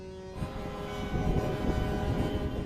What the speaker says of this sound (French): Les coups de klaxon sont tellement assourdissants qu'on a du mal à leur parler.